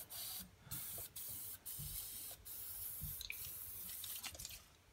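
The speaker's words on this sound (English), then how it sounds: "You just want to spray it into those channels." Spray grease hisses from an aerosol can into the brake channels of a stroller in short close bursts with brief gaps between them, no talking.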